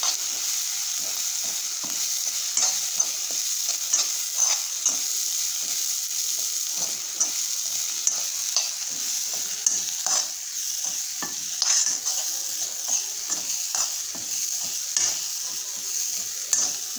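Ground pigeon pea paste with turmeric and red chilli powder roasting in a pan, a steady sizzle and hiss with frequent scraping stirs throughout, close and continuous with no talking.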